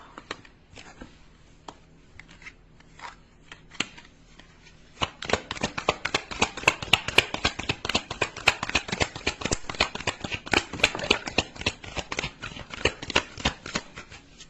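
Tarot cards are shuffled by hand: quiet scattered card flicks at first, then a dense, rapid run of crisp riffling snaps, close and fairly soft.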